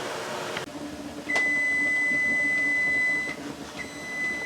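A kitchen timer beeps at the end of a 40-minute canning boil for fresh organic tomato sauce: a sustained electronic tone of about two seconds, then a second tone begins, over a steady background hum.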